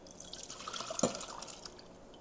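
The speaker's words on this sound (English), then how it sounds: "I'm gonna look at all that great onion, mushroom gravy. I'm gonna pour that into a pan." Onion mushroom gravy being poured into a pan gives a faint, soft liquid trickle with a small splash midway, set against quiet room background.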